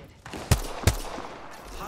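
Gunfire in Apex Legends: two sharp, loud shots about a third of a second apart, followed by a brief lingering tail and low background noise.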